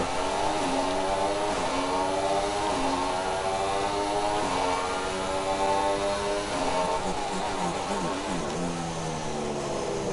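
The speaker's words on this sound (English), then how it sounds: "What a sound this car makes on the downshifts." An F1 2016 racing car in a video game, its engine droning loudly and continuously with rising and falling pitch sweeps as it shifts down through the gears, with no talking.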